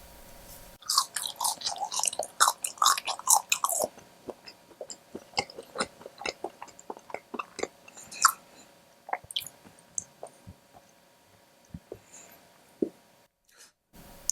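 Chicken nuggets and coleslaw, eaten alongside french fries, are chewed close to the microphone: a dense burst of crunchy bites at first, then softer, irregular chewing and wet mouth clicks thinning out toward the end.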